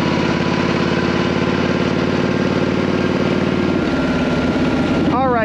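A motorcycle engine with an S&S Super E carburetor idles loudly and close up while warming up, a steady throbbing rumble that shifts slightly in pitch near the end.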